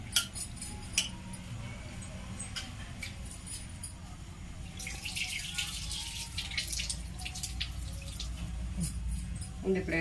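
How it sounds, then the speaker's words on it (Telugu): Toor dal lentils being rinsed in water for Andhra gongura pappu, with a steady wet swishing and sloshing, scattered drips and small clinks of the vessel at close range, growing a little busier partway through. "ఇలా 1-2 సార్లు కడిగేసి పెట్టుకుందాం ఈ బ్యాళ్ళు"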